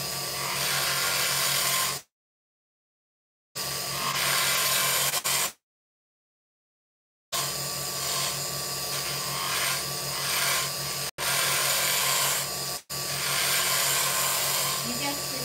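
A carbide tool shaves a spinning wood pen blank on a lathe, giving a steady rasping hiss broken by several abrupt silent gaps, with the motor hum running underneath.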